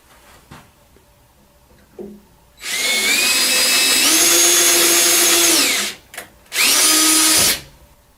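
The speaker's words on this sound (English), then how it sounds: "we're going to use a 1/4 inch drill bit to drill a hole through here." A power drill with a 1/4-inch bit whines at high speed for about three seconds, drilling a hole for a reverse osmosis drain saddle, rising in pitch as it bites, stops briefly, then runs again in a shorter burst.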